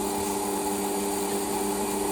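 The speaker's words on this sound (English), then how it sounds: "I am going to part it off at a 1/4" A lathe parts off a crankshaft blank for a Stuart Models S50 engine, giving a steady, continuous machining hum with tonal whine, close and even throughout, with no talking.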